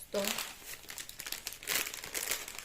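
Crisp crinkling of a plastic packet being handled, several rustling bursts close to the microphone.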